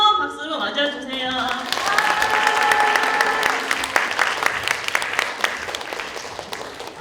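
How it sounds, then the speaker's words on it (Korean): An audience at a forum opening ceremony applauds to welcome a choir of women with developmental disabilities, clapping building steadily while a voice speaks over the start. "뜨거운 박수로 맞아주세요."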